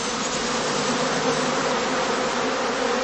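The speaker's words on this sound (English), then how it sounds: "During this time, the bees are gathering nectar and pollen to supply the colony." Bees fill a heather skep apiary in a birch, alder and pine wood with a dense, continuous buzz, many insects humming together close by and steady throughout.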